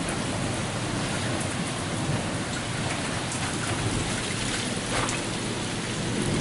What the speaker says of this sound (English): They said it was going to storm today.